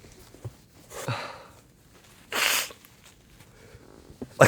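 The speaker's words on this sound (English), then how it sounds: "I gotta blow my nose." A person blows their nose in a couple of short, breathy bursts, with a louder and longer blast in the middle. It is close and alone, with no talking.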